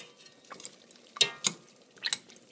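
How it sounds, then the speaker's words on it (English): A potato masher squelches and presses canned Italian tomatoes in a pan, giving a few soft, wet, separate squishes against a quiet background. "I'm actually going to take a potato masher and mash these up"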